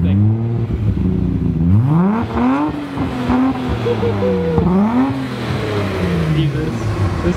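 A Nissan Skyline R34 GT-R engine revs hard and accelerates, its pitch climbing and dropping through several surges, loud and close, with a steady rumble underneath.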